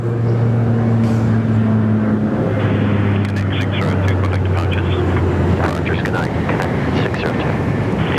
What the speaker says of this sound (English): There's our Nexus Q400 straight over the top.